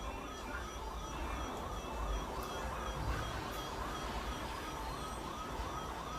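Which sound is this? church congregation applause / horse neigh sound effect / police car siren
police car siren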